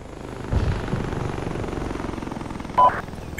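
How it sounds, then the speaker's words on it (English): A jet in the Arma 3 military game roars past as a steady, loud engine drone with a sharp louder swell near the end; no one speaks. "Command, be advised, there's a jet right on your ass"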